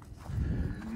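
Low, drawn-out moo from farm cattle outdoors in the morning, a single call lasting about a second at moderate distance, with no talk over it.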